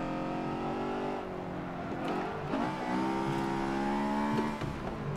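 Race cars braking hard in the Forza Motorsport 7 video game: loud, steady engine drone whose pitch wavers and dips as the cars slow, with faint tire noise and no voices.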